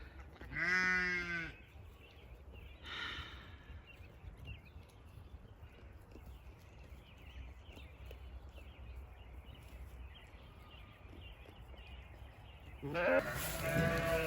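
Sheep in a pasture bleat: one loud, close call at the start, a fainter bleat shortly after, and another loud bleat near the end, with quiet outdoor ambience between them.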